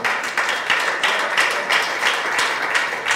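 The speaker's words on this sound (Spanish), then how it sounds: "de un aplauso al Señor" A church congregation applauds with steady, dense clapping that carries on throughout, loud and close, with a slightly rolling rhythm.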